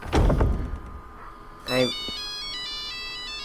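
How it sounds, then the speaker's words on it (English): A phone ringtone in the video game Resident Evil: a bright repeating electronic melody that starts partway through and keeps going steadily to the end, preceded by a short burst of talk and a thump. "Can't hear you over this stupid ringtone, Brad."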